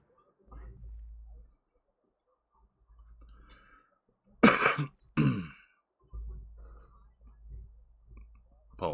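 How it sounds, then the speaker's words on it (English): A person coughs in two sharp, loud bursts in the middle, set among quieter throat clearing and soft breathy noises near the microphone. "Apologies for the spike there due to the cough."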